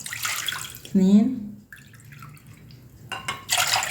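Water poured into a pot while cooking a Tunisian semolina dessert with sugar, heard as brief splashing and trickling between bits of speech.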